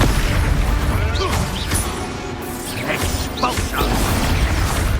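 Expulso spell blasts go off in the Hogwarts Legacy video game, several booming, crashing impacts with whooshes layered over dense, continuous game noise.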